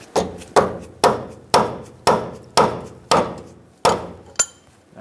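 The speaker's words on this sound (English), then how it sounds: "I'm going to put my wrench back on and just tap it a few times with the rubber mallet" A rubber mallet taps a wrench on the inner tie rod of a 2007-2014 Chevrolet Silverado 2500 HD, about nine evenly spaced dull, close knocks each ringing briefly.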